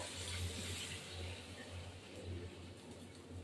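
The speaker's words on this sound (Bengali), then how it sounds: "সামান্য একটু জল দেবো এবার" A little water poured into a cooking pan, a brief, steady, close rush of liquid with no talk.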